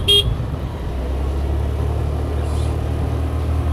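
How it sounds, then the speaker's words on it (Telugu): A car horn gives one short toot at a blind turn on a hill road near Munnar, heard over a steady engine and road rumble inside the moving vehicle. "ఇట్లాంటి బ్లైండ్ టర్నింగ్స్ దగ్గర బాగా హార్న్ అయితే కొట్టండి"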